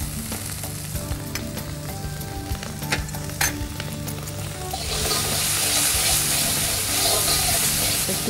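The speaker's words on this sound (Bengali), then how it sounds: "এটা আমি আজকে তো কালো জিরে দিয়ে ফোড়ন দিলাম" Black cumin seeds are tempered in hot oil, throwing up a steady, loud sizzle that swells and brightens halfway through alongside a few stirring clinks.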